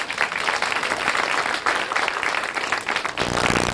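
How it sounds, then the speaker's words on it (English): Comedy club crowd claps for the wait staff, a loud, continuous burst of applause across the room with a faint voice near the end. "They're working very hard for you. Give them applause."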